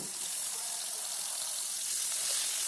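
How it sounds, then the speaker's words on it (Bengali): Potatoes frying in oil with nigella seeds produce a soft, continuous sizzling hiss, even and unbroken from start to finish, heard alone. "তো ওই তেলের মধ্যে আমি কালো জিরে দিয়ে আলুগুলো ছেড়ে দিলাম"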